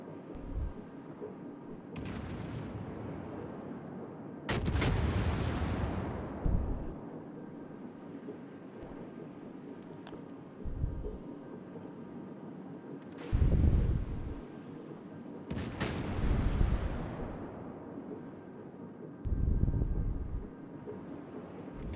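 Heavy naval artillery booms in the World of Warships game, several loud, deep blasts spaced a few seconds apart, each trailing off in a rumbling roll over a low, steady background.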